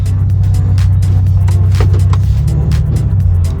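A Ford BA Falcon with a replacement differential drives off, its engine a loud, steady low rumble close by, with faint clicks over it.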